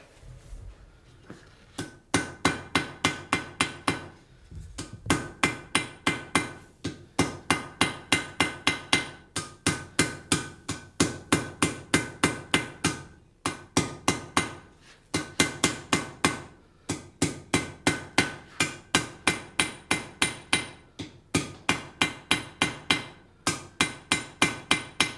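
A hammer forges a horseshoe on an anvil in bursts of rapid, ringing metallic blows, each run of strikes stopping for brief pauses before starting again, loud and close with no talking.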